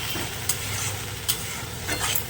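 A pan of mixed leafy greens fries with a soft, steady sizzle while being stirred, with a few brief scraping clicks, quiet and close with no talking.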